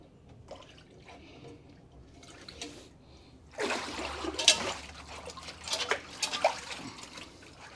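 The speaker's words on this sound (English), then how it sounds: "All we have to do is scrub it a little bit with some water." An item is scrubbed with water, giving a close, busy run of splashing, trickling and scraping that starts faint and grows louder after a few seconds.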